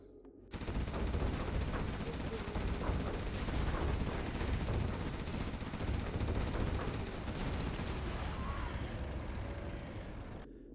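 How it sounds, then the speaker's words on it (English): An artillery strike and a carpet bomb pound a video game map, a continuous dense rumble of explosions and rattling impacts that fills about ten seconds at steady loudness, with no voice heard. "Artillery coming in, as well as the carpet bomb."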